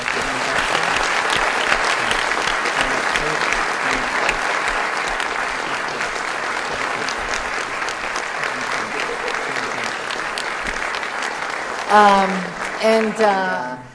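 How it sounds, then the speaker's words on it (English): Sustained audience applause fills most of the clip, fading as a voice starts talking near the end. "let's give them a round of applause"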